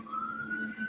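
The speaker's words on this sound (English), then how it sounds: "Someone's got a siren going off." A siren sounds from a television: a steady wailing tone under low room noise, brief and moderately faint, with no talk over it.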